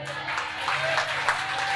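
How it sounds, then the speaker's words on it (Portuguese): Loud, steady applause from a church congregation at a Brazilian worship service, a continuous dense wash of clapping holding throughout with slight swells. "Aplaude forte,"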